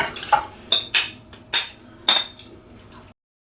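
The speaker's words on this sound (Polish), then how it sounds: "Do garnka przekładam pół kilo wiśni." Several sharp clinks and clatters sound as half a kilo of cherries drop into a metal pot, irregular bursts close up with quiet gaps between.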